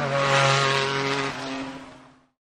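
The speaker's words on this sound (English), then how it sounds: "Just listen to the engine." A PlayStation-branded Porsche 911 GT1 Evo Le Mans race car engine drones with a strong, tonal roar that holds steady, then fades out abruptly after about two seconds.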